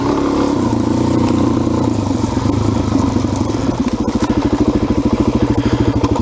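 A Suzuki DRZ 400 dirt bike rumbles close and loud, its engine shifting into a rapid, pulsing thump as the rider moves off, with no talk over it.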